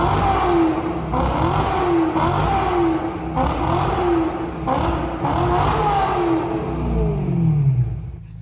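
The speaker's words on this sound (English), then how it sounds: "God's Engine. S65. 8500 RPM. 420 horsepower." A BMW S65 V8, the 8500 rpm 420-horsepower engine swapped into a BMW 1M Coupe, revs repeatedly in loud close bursts, with about five rising-and-falling sweeps followed by a longer descending pull.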